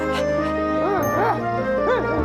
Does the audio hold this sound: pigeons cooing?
no